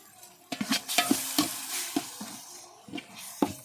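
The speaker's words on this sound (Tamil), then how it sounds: "இப்போ எல்லாம் வந்து பச்சை வாசனை போகிற அளவுக்கு நல்லா வந்து வதக்கி விடலாம்" Onion, tomato and ginger-garlic paste are sautéed in a pan for dum biryani. A spoon scrapes and stirs in quick, close strokes over a soft, steady sizzle.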